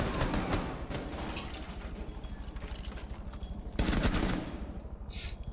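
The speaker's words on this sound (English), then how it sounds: "I got shot from behind." Rapid automatic gunfire in Rainbow Six Siege, a dense sustained run of shots that swells louder near the end, heard with no voices over it.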